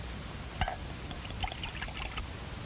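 Bottled grape juice pours into a vessel with a soft trickle and a few small splashes and gurgles, quiet and close over faint background hiss.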